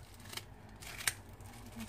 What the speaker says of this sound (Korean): 저는 가위를 잘 사용해요.